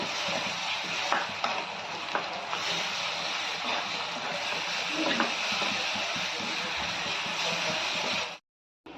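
Chopped onion, with ginger, garlic and coconut, fries in a pan with steady, close crackling and sizzling and a few stirring scrapes, then cuts off near the end.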